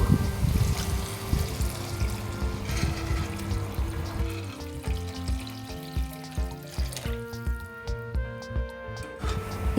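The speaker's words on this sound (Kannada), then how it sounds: "ಈಗ ಇದಕ್ಕೆ 1/2 ಲೀಟ್ರಷ್ಟು ನೀರನ್ನು ನಾನು ಸೇರಿಸ್ತಾ ಇದ್ದೇನೆ." About half a litre of water goes into a pot of half-cooked tomato rasam, a steady splashing pour that gives way to bubbling, pulsing simmer sounds, close and without talk.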